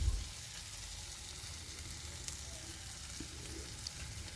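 Egg noodles with tomato ketchup and chili sauce sizzle steadily in a pan while being stirred, a constant soft frying hiss with faint scrapes and no talk.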